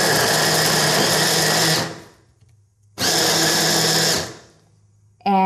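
A food processor blade whirs loudly as it chops carrots in two bursts of about two seconds each, with a pause between them and the motor starting up again at the very end.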